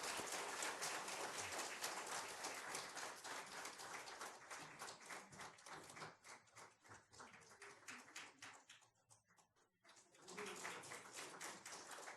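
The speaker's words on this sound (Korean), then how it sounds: "성도 여러분께서는 박수로 환영해 주시기 바랍니다." Church congregation at a Sunday Methodist service applauds in welcome of new members, a sustained patter of many hands that thins and dips briefly before swelling again, heard from a distance in a large room.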